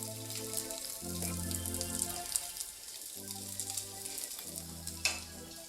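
Bacon sizzling in a pan, a soft continuous crackle and hiss heard under intermittent sustained musical tones, fairly quiet, with a brief sharper pop near the end.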